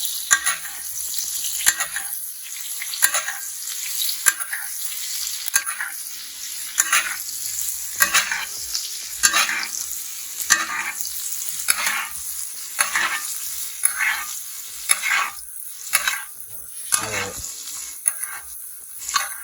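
A steak frying in a pan with butter, a steady loud sizzle with repeated scraping and basting strokes at a regular rhythm, close up, with no talk.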